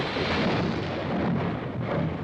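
Motorbikes roaring in an animated scene, a loud continuous rumbling blast that stays dense and heavy from start to finish.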